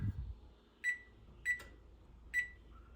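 An oven timer is set with three short electronic beeps at uneven intervals, faint and clear over a quiet room, with a fourth softer tone near the end.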